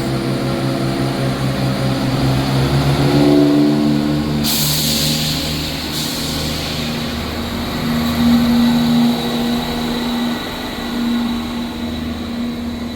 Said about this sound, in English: Departing out now is the 1709 ScotRail service from Edinburgh Waverley to Cowdenbeath.